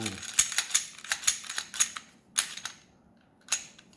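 A handgun's slide is racked and locked back during a safety check, giving a series of sharp metallic clacks and clicks in an irregular rhythm. They are close and crisp, with quiet pauses between them and a final click after a gap.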